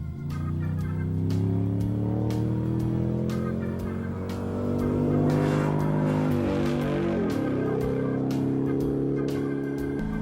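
A supercharged Jaguar XK180 roadster drives hard at speed, its engine note loud and close with steady harmonic roar, rising and falling through gear changes and a pitch sweep midway, with no voices.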